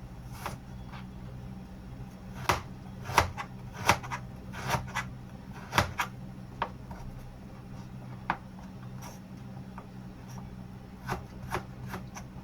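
Knife strokes thinly slicing vegetables on a wooden board, a series of sharp irregular taps with steady low background hum, no talking.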